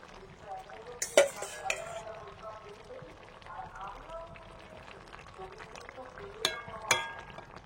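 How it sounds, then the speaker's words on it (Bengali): Fried eggplant pieces go into a pan of water for a home-style Bengali fish, potato and eggplant curry and are stirred, with sharp spoon-on-pan clanks near the start and end over quiet kitchen background and faint voices. "ভেজে রাখা বেগুনগুলো দিয়ে দিচ্ছি এখন।"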